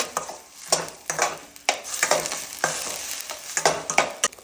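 A spoon scrapes and stirs through a thick onion paste frying in mustard oil in a pan, with steady sizzling and rhythmic strokes every half second or so.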